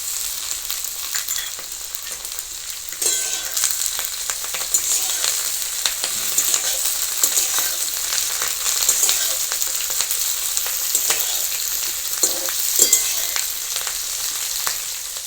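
Tomatoes go into hot oil in a frying pan and sizzle steadily and loudly up close, with a few soft stirring scrapes near the end.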